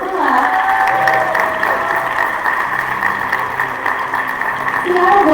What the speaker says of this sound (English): give them some applause of their own, shall we